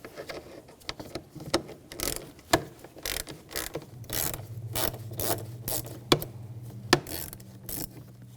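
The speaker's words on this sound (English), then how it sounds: "I'm going to take this bolt out. Use a hex socket." A ratchet with a 5 mm hex socket backing out a bolt on a 2007-2013 BMW X5 3.0L inline-six, a run of quick clicking pawl bursts with scraping turns between them, close and moderately loud, no speech.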